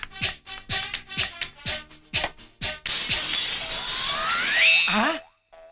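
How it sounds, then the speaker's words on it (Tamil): A window pane shatters in a loud, sustained crash of breaking glass, preceded by a quick run of rhythmic taps and knocks and ending in a rising comic boing-like tone before silence. "தங்க மாதிரி இந்த ஜன்னல் உடைஞ்சிடுச்சே."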